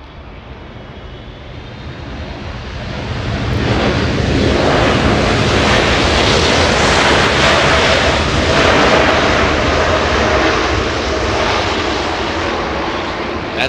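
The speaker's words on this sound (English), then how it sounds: "zooming in to the Dreamliner as it lifts off from 25 right" A Boeing 787 Dreamliner lifts off runway 25 Right at Los Angeles International Airport. Its loud jet roar swells over the first few seconds, then holds as a steady, broad, close rumble.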